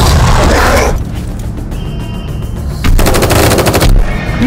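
Loud gunfire in a dramatized SCP horror story, rapid machine-gun bursts with dense crackling shots that hardly let up, then a brief lull before another fast volley, with no voices.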